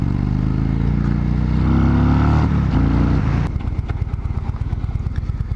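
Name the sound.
Indian Chief Dark Horse motorcycle engine idling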